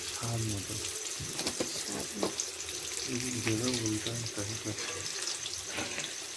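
Potatoes sizzle in a pan while being fried red for homemade biryani, a steady hiss of frying under a person speaking intermittently nearby.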